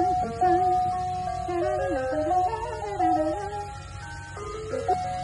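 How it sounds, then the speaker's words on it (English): An ice cream truck plays its familiar tinkling, looping melody outdoors, loud and fairly close with a low engine hum beneath. "You hear the familiar ice cream truck music."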